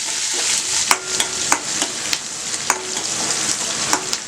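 Green chili, ginger and curry leaves sizzle loudly in a hot pan for green gram pongal, a steady bright frying hiss with repeated clicks of a spoon stirring, no voices.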